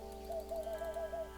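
Birds in the video game Tiny Book Shop chirp in a quick, even series of about six short tonal notes, faint and alone over a steady background hum.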